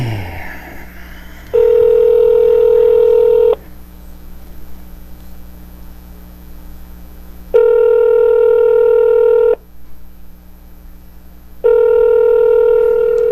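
A telephone call placed with a star-67 caller-ID block sounds a loud, steady electronic ringing tone three times. Each tone lasts about two seconds, separated by several seconds of low line hiss.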